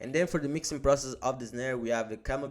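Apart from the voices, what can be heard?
No distinct noise like a dog, phone or traffic.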